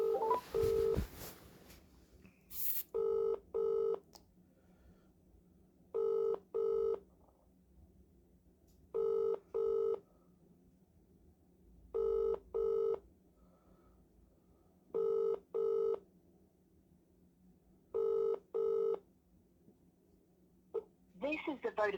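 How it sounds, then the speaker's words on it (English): Paired bursts of mobile phone ringback tone repeat at a steady interval, after a brief flurry of keypad dialing at the start, with quiet line hiss between rings. "Ringing up Christopher Browell."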